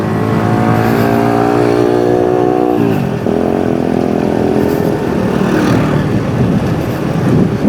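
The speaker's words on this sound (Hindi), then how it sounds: "वो ग्रेडर चल रहा है वहाँ पे भाई।" A road grader works a road-building site where carpeting is underway, its loud diesel engine droning steadily with harmonic whine, dipping in pitch around midway then rising again amid rumbling machinery.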